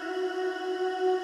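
Vocals drenched in Valhalla VintageVerb's new Palace reverb mode, a sustained, washed-out tonal wash holding steady and fairly loud throughout with no talking.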